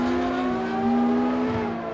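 A 1960s race car with a flat-six engine and straight-pipe exhaust, in a racing video game, drones loudly and steadily at high revs, a sustained buzzing tone holding near and constant with slight pitch shifts.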